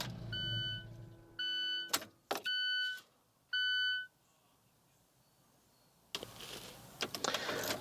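An Alfa Romeo engine idles with a low rumble, then cuts off. Several electronic chimes sound in short bursts, a quiet pause follows, and a burst of hissing noise ends the sequence.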